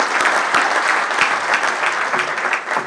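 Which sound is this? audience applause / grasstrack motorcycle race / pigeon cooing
audience applause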